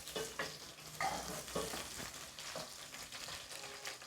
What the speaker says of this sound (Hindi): अभी ये लहसुन डाल रहे हैं, लहसुन का पेस्ट और अदरक का पेस्ट